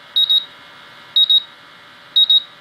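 A gas detection instrument sounds its alarm during an isobutylene bump test: loud, shrill electronic double beeps repeating three times at a steady pace of about one pair per second, alone with no voices.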